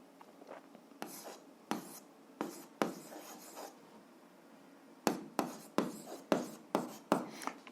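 A pen writing out an algebra solution on paper, giving quiet scratchy strokes in a rhythmic run of short, separate marks, with a denser burst of quick strokes near the end.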